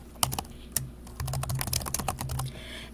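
Typing on a computer keyboard while filling in a Google spreadsheet: irregular clusters of crisp key clicks, close and fairly quiet, with short pauses between bursts and no talking.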